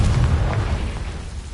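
A Confringo fire spell explodes in the video game Hogwarts Legacy, a short, heavy, booming blast with a rumbling low-end tail that fades over under two seconds.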